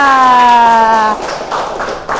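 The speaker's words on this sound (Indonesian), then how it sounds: "Tepuk tangan." A sixth-grade maths class breaks into a burst of hand clapping. A sustained voiced tone comes first, then a quick run of claps that continues to the end.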